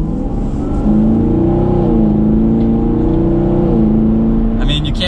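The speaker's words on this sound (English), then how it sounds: "I can't get over that exhaust. It sounds so good." A throaty V8 exhaust from a 2021 Chevrolet Camaro SS 1LE rumbles and revs steadily up close, its pitch rising and falling slightly over a few seconds.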